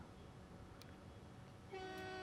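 A train pulls into a station in the transport simulation game Transport Fever 2, a steady rumbling bed rising near the end as a bright sustained horn-like tone sounds clearly over it.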